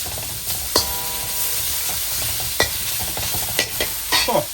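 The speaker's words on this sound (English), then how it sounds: "we are just going to cook our pork in nice little strips until it is done" Pork strips for gochujang pork sizzle steadily in a hot pan as they are stir-fried, with a few sharp clanks and scrapes of a utensil stirring the meat; no talking.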